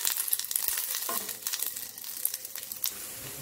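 Sliced okra fries in oil in a pan, a steady close sizzle with crackling pops and the scrape of stirring, no voices over it.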